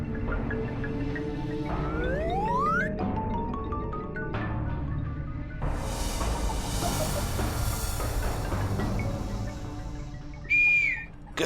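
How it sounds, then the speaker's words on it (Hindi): Shrill whistles sound in a comedy scene, including a rising slide and some short blasts, laid over a busy bed of music and effects with a brief high tone near the end. "किसने सीटी मारी?"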